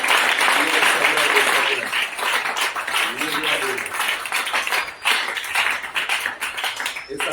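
A church congregation applauds in steady, dense clapping that runs throughout, with a preacher's voice speaking over it.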